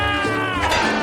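Kitten meowing, one loud, close, drawn-out high cry that bends in pitch, heard alone.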